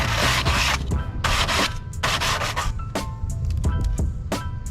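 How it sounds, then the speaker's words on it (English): Hand sanding with 80 grit sandpaper, smoothing a filed edge: close, steady back-and-forth rubbing strokes in a quick rhythm, loud and alone with no talk. "So I just grabbed some sandpaper."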